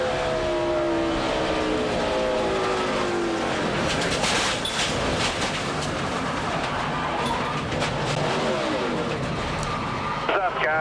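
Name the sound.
NASCAR race car engine, onboard camera at Darlington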